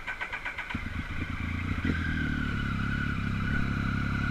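A Triumph Speed Triple motorcycle, just back from a sprag clutch repair, cranks with a rapid clattering starter, then catches and settles into a steady, loud, close-up idle.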